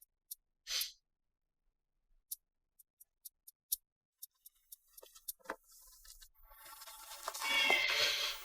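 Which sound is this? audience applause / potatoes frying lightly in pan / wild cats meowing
wild cats meowing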